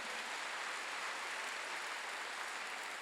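Church congregation clapping together during a Wednesday worship service, a steady wash of hand claps at moderate distance that holds evenly throughout without any voices on top.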